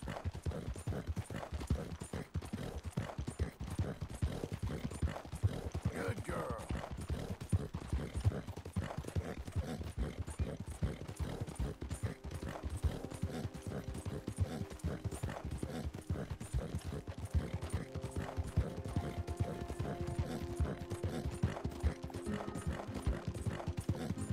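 Horse hooves cantering in Red Dead Redemption 2, a steady, continuous clip-clop rhythm throughout with faint game ambience and occasional tack jingle.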